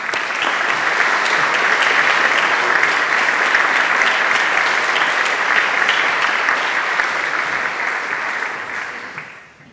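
An audience at a university lecture gives a long, loud round of applause, a steady wash of clapping that holds evenly before tapering off at the end.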